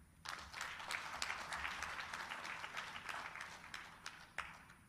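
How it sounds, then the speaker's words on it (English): Audience applause for elders at an African democracy stakeholders' conference, a steady, moderately distant roar of many hands clapping that holds for several seconds with a few sharper claps standing out. "Please, a round of applause for our elders."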